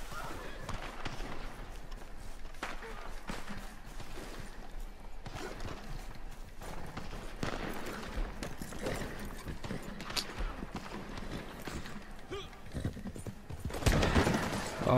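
A horse gallops in the video game Red Dead Redemption 2, with steady rapid hoofbeats throughout, growing louder and busier toward the end, without speech.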